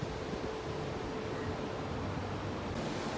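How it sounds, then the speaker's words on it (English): Indian Ocean surf washes in a soft, continuous hiss below a hotel room balcony in Colombo, Sri Lanka, distant and fairly faint, with light wind noise and no talk. "Look at the Indian Ocean."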